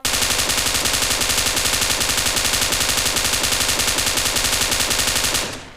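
Continuous automatic gunfire from the mobile battle royale game PUBG Mobile on the Erangel map, a rapid, evenly spaced burst of loud shots lasting several seconds before cutting off abruptly.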